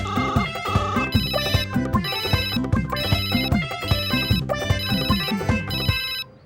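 Phone ringtone chiming in a repeating electronic pattern while a call is placed to a film director, a loud looping melody with steady bursts of bright ringing, playing alone until it cuts off near the end.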